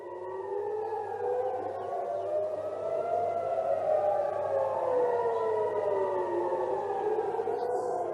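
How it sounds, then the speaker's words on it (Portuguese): Several air raid sirens wail at once across Tel Aviv, their rising and falling tones overlapping steadily and loud, with no voices. "o que vocês estão ouvindo agora são sirenes soando por toda Tel Aviv"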